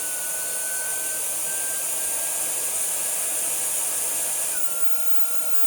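A Tineco ModaOne smart hairdryer runs with a steady, loud airflow hiss and a thin motor whine that shifts slightly in pitch near the end, alone with no talking.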